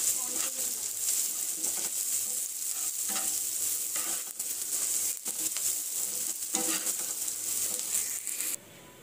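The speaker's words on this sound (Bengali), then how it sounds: "এই যে মরিচ পেঁয়াজ দিয়ে দিলাম ইলিশ মাছের জন্য" Chili and onion frying in oil in a pan for hilsa fish, with a steady close sizzle and occasional stirring scrapes running throughout before cutting out near the end.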